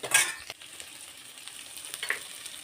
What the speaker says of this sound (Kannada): ಇವಾಗ ಇದಕ್ಕೆ ಕೊಬ್ಬರಿ ಹಾಕ್ಕೊಳ್ಳೋಣ. ನೋಡಿ, ಈ ಥರ ಫ್ರೈ ಮಾಡ್ಕೊತಾ ಇದ್ದೀನಿ.